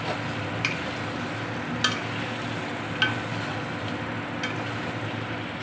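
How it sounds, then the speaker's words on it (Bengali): Chicken kosha frying in oil that has separated from the meat, with a steady close sizzle and a few sharp scrapes of stirring spaced every second or so. "এই যে চিকেন কষা এখন রান্না করছি, দেখো তেল ছেড়েছে চিকেন"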